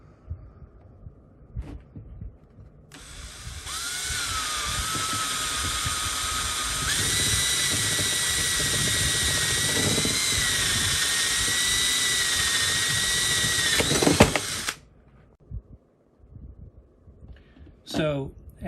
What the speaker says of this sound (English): I need a 5/8 inch spade bit to drill and be able to mount that through the lid there